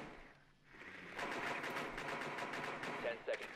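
Rapid bursts of automatic gunfire in a first-person shooter game mission to locate a biohazard container, crackling steadily for about two seconds after a brief lull, with background game voices underneath.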